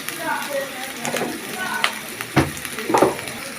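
Goat liver curry with turmeric, chili powder and green chilies sautéing in a pan, giving a soft sizzle broken by a few sharper scraping stirs, loud and close.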